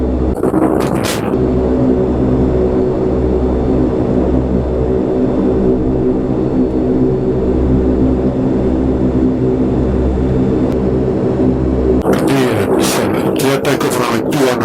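Lockheed Hercules L100 turboprop engines roar steadily during the takeoff roll, a loud, continuous droning hum with pulsing low throb heard from inside the cockpit, with brief radio chatter at the start and end.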